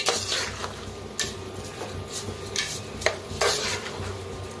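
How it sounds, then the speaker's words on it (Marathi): Rice and salt roasting in oil in a pan for masale bhaat, stirred with a spoon: repeated scraping strokes and light metallic clinks over a faint sizzle, close and moderately loud, no talking. "जरा आता भाजून घेऊया मिठाला, मग मिक्स करूया सगळं."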